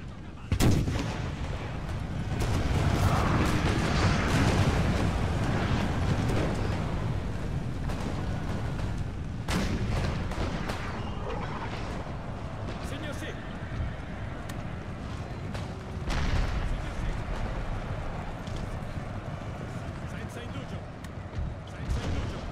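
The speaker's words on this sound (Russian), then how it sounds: "Пушки, огонь." Heavy cannon artillery booms roll out again and again over a dense, rumbling battle din in a Napoleonic war video game, with scattered gunfire and a voice talking now and then.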